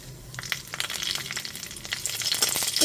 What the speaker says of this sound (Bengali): এবার ফোড়নে দিয়ে দিচ্ছি 1 টিস্পুন কালো জিরে আর 2টো শুকনো লঙ্কা।